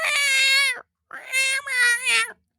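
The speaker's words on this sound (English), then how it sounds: "if you live next door to Paige, there are cat samples being played round the clock" A recorded cat sample meows loudly and close in two drawn-out, tonal calls, the second splitting into a double meow, with a short silence between and no talking.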